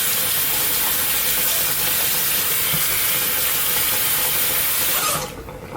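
Kitchen tap water running steadily while a knife is washed, a loud continuous hiss that cuts off abruptly near the end.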